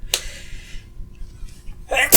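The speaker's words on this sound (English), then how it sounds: "and I'm gonna sneeze" A single sharp, close human sneeze bursts out suddenly near the start, followed by quiet and then a burst of breathy vocal noise at the end.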